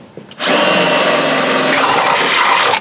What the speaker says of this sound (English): now we're going to go to the 25/64 drill bit that it calls for to enlarge in that hole